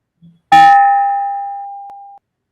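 A single loud bell strike opening a meeting rings out clearly, its bright tone slowly fading over a second and a half after a faint tap just before.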